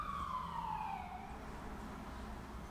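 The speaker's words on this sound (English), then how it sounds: "lots of sirens here in Oslo today" Emergency vehicle sirens wail through city streets in Oslo, heard faint and distant, one tone gliding downward over a low steady rumble of traffic.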